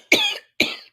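Two sharp, close coughs from a person with a sore throat, about half a second apart, each a short harsh burst trailing off, with no talk around them.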